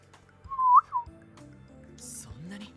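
A game character gives a short rising whistle during a cutscene, clear and close, followed by quiet background music and ambience.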